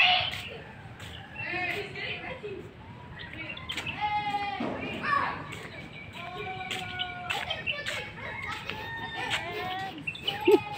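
Birds chirp and call repeatedly in short whistled phrases, close by, with people talking throughout and a busy outdoor background.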